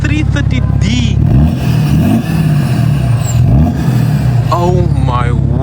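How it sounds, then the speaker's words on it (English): BMW 330d diesel engine idling and revving nearby, a loud rough throb with rising and falling pitch sweeps, while people talk over it. "It sounds like a diesel."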